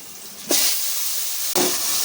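Chopped tomatoes hit a pan of fried golden onions with a sudden loud hiss, settling into steady sizzling, then a second sharp burst of frying as more pieces drop in.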